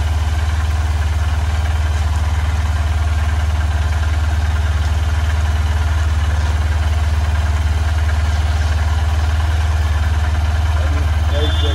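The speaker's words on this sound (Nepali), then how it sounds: "बाइक स्टार्ट गर्ने" A motorcycle engine idles with a steady low rumble and constant hum, loud and close, holding unchanged from start to finish.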